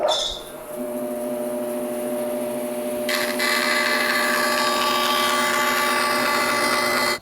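A bandsaw cuts through a piece of hardboard to make a zero clearance insert, giving a loud steady motor whine with tonal hum that grows louder and harsher partway in as the blade bites.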